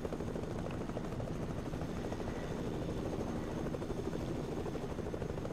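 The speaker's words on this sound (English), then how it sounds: "Although the chopper is copying me" A helicopter in the video game Fortnite gives a loud, continuous rotor thrum and engine roar that stays steady throughout, with no talking.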